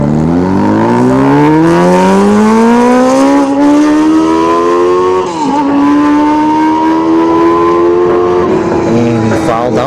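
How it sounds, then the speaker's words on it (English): Honda CBR 1000 motorcycle tearing down a dragstrip during test-and-tune racing, loud engine wailing and climbing through the gears in a long rising howl with a brief dip at a shift. "Alright, the CBR 1000. Let's see if he can go a little bit faster than he did before."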